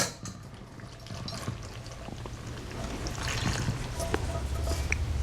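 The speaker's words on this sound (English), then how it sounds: "So I'm going to take my pasta and we're gonna pour it right in." Cooked pasta pours into a bowl of tuna salad with a wet, trickling slide and soft sloshing, close and fairly quiet, rising toward the end.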